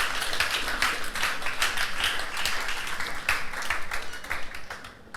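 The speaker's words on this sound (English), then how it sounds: "I thought your applause would be louder than that." A live audience applauds a speaker at a career talk, with dense, steady clapping that fills the room for the whole stretch and fades slightly at the end.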